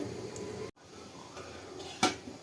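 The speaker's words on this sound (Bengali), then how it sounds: "এবার এর উপরে আমি একটা থালা দিয়ে ঢাকনা চাপিয়ে দেবো" A plate is set down as a lid over a pot of boiling rasgullas, giving one short, bright clink late in the moment against a faint, steady kitchen background.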